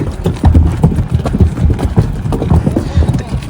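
Several horses on a California trail ride cross a bridge over a river single file, their hooves clip-clopping steadily and close by, with people talking over the hoofbeats.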